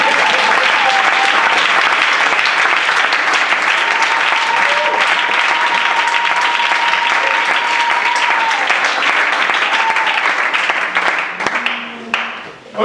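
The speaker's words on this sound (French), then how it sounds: "Mais on va applaudir pour Jésus parce qu'il va me donner une réponse." Congregation applauding in a church during a Bible lesson, a long, loud wall of clapping with a faint voice or tone running through it, tapering off in the final seconds.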